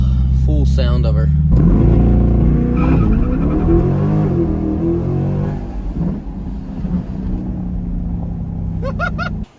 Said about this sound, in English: we're gonna leave it a little launch control action for him. That way he gets the full sound of her